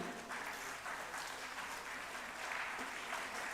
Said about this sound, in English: a round of applause for the central organizing team